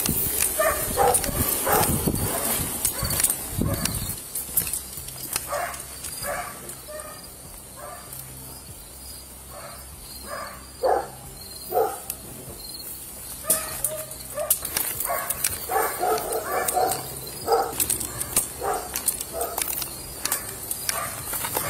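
Police dog barking repeatedly in an outdoor setting during an arrest, bursts of loud barks at irregular intervals, close and harsh, with no clear speech over the commotion.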